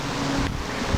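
Strong outdoor wind buffets the microphone on a very windy day, a loud continuous rumbling roar with no voices.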